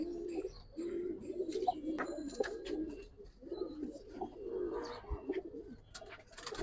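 Giribaz and coloured pigeons at a pigeon sale coo steadily in repeated low, soft calls, with rustling and small knocks around the birds and a few sharper bird chirps mixed in.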